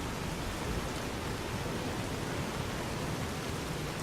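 Steady, dense rain hiss falls across the Fallout: New Vegas game world, an even broadband wash with no breaks, no speech and no other distinct sounds.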